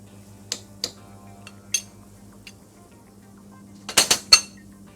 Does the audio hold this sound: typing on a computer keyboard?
no